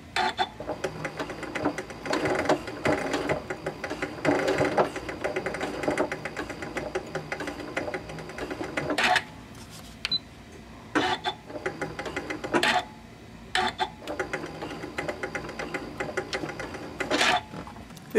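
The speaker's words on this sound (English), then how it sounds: "I'll finish up just by sewing a little bit over these original stitches right here and then backstitch" A sewing machine stitches over original stitching on a zipper and then backstitches, running in steady loud bursts broken by short pauses, nearby and without talk.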